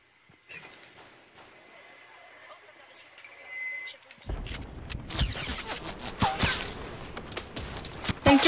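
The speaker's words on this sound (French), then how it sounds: "Ça me tire dessus." Rapid bursts of video-game gunfire erupt after a quiet stretch, loud crackling shots clustered densely over the last few seconds with a voice speaking underneath.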